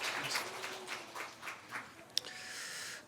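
Quiet, scattered clapping from a Sunday church congregation welcoming a newborn baby girl, soft and somewhat distant with one sharper clap near the end.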